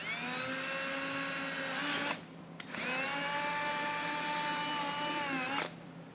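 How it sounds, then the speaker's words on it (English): A power drill bores a 5/8-inch hole through plastic fascia on a 2025 Ford, whining in two long, steady runs separated by a brief pause, loud and close with no talking. "So I'll get this drilled out."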